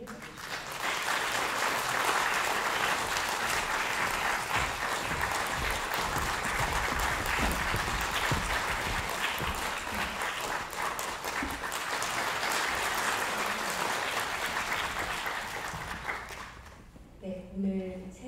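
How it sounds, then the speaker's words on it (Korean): A concert audience applauds warmly to welcome string players onto the stage, with steady, dense clapping sustained for around sixteen seconds before it tapers off and a voice begins speaking. "이 따뜻한 박수로 현악 주자들을 맞이해주세요."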